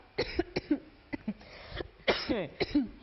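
Several harsh coughs and throat-clearing sounds in irregular bursts, close to the listener, with breathy rasping between them.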